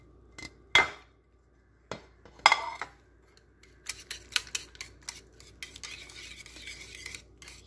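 A spoon stirs and scrapes a spice mixture into yogurt in a bowl for a bottle gourd raita, with a few sharp clinks followed by a run of quicker, softer scraping taps, close and fairly quiet.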